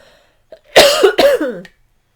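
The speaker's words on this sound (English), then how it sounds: "I may cough again, I can feel it brewing." A couple of harsh, close coughs in quick succession, loud and alone after a brief quiet moment.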